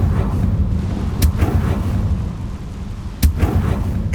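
Two sharp blasts from the Confringo blasting curse in Hogwarts Legacy cut through a rumbling background about two seconds apart, each a short bright crack with a brief boom, loud and close.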